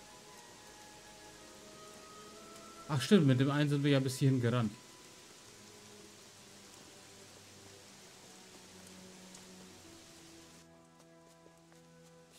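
Rainfall in the video game Gothic 3 as a soft steady hiss in the background, while someone talks briefly over it in the middle; the rain thins and the sound drops toward the end.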